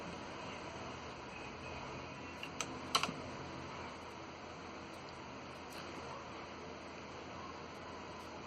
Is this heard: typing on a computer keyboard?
yes